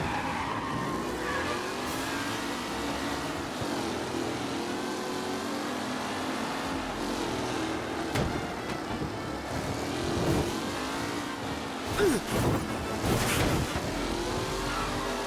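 Race cars in the Mafia: Definitive Edition video game roar past at speed with tires squealing and skidding, a dense continuous engine wash swelling loud near the end.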